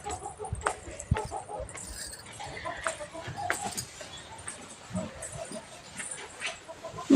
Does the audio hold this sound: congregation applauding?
no